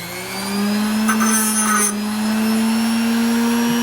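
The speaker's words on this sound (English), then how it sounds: "hit on the grinder, it's brass" A grinder running steadily on scrap brass, with a sustained droning motor whine and a short burst of harsher grinding noise partway through, close and loud.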